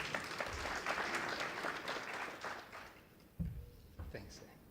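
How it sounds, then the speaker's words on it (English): An audience at a talk breaks into applause, a steady moderate spread of clapping with a few sharper claps standing out near the end as it dies down. "Let's give him a round of applause."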